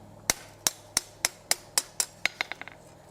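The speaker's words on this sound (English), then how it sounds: "I want to hammer on this to make sure everything's still squared." A hammer strikes metal while forging a garden hose hook: about eight evenly spaced ringing blows, then a quick run of lighter rebounding taps that fade out.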